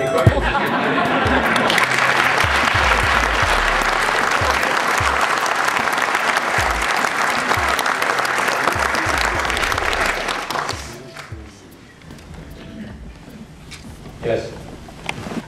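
Loud, dense audience applause fills a lecture hall after a speech at a public talk with a former 9/11 Commissioner, holding steady for about ten seconds before dropping to quiet room murmur.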